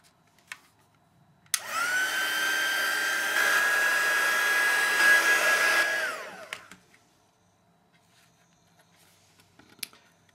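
A heat tool blasts loudly for about four seconds with a steady whining roar, melting clear embossing powder on sponged cardstock leaves, then cuts off, leaving faint handling noises.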